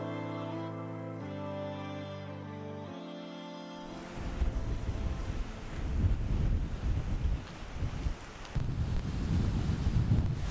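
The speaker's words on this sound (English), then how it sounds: "So the wind gets pushed or squeezed against the mountain here." Strong wind gusting on the south coast of Hawaii's Big Island near a lava field meeting the ocean, a loud roaring rush with heavy microphone buffeting that surges and fades in waves, preceded by a few seconds of steady tonal music.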